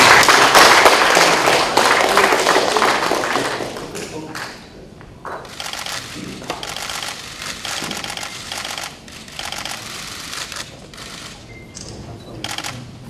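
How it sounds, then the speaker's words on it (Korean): Applause from an audience at a friendship agreement signing ceremony between Wanju County and Seoul, a dense burst of clapping that is loud at first, then thins out into scattered, quieter claps. "큰 박수로 축하해 주시기 바랍니다."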